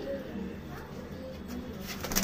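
Domestic pigeons, including a mated pair, cooing softly and continuously at close range, with low rolling calls layered over a steady background hum and no talking.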